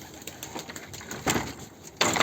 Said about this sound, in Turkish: Uçan kuşlar. Benim kendi kuşlarım.